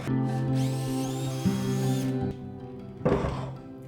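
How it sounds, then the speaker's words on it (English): A hole saw bores through a clamped-down workpiece for a DIY candy machine, a steady whining drone with a sustained tonal hum, then a brief pause and a rougher grinding burst near the end. "I'm going to clamp this down and drill this with the hole saw."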